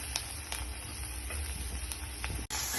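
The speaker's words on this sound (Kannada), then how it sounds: "ರುಚಿಗೆ ತಕ್ಕಷ್ಟು ಉಪ್ಪು ಹಾಕ್ಬಿಟ್ಟು ನಾವು ಈ ಥರ ಸ್ವಲ್ಪ ಫ್ರೈ ಮಾಡ್ತೀವಿ" Grated carrot and spices frying with salt in a pan give a steady close sizzle, with faint stirring scrapes and no voices.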